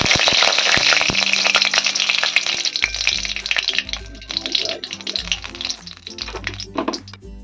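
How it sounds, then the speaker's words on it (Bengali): A bay leaf broken in two and two dried red chillies sizzle steadily and loudly in hot oil for sabu khichuri, with crackling pops throughout and music playing underneath. "তেলটা গরম হয়ে গেছে। আমি একটা তেজপাতা 2 টুকরো করে দিয়েছি, 2টো শুকনো লঙ্কা দিয়েছি।"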